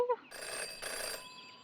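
A telephone rings inside the Jenny LeClue detective game: a short bright tone up front, then two longer bursts of electronic ringing at moderate level, with no talking.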